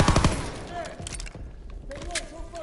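World War II firearm shots in the Call of Duty WWII campaign, a quick cluster of loud gunshots at the start followed by scattered battle noise, with someone talking over it.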